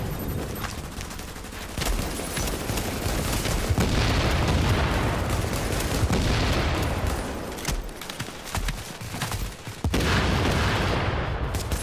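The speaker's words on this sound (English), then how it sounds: "Explosive rounds like a motherfucker" Sustained heavy gunfire with explosive rounds in the shooter game Tom Clancy's The Division: dense rapid bursts and booming blasts roll almost continuously, loud and close, with only brief gaps.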